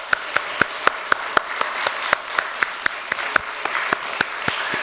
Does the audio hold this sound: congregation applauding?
yes